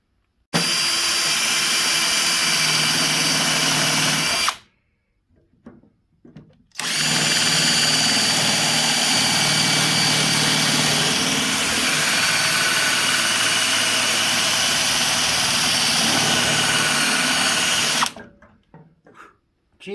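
Power drill with a cheap hammer chucked in, spinning to twist the hammerhead off its handle, whining loudly and steadily in two long bursts separated by a short pause, with no talk.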